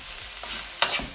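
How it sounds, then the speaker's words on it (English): Tomatoes sweating in oil in a pan for ackee and saltfish, giving a soft steady sizzle with a brief sharper crackle near the end, heard alone and close. "we're gonna let the tomatoes sweat in there just a bit."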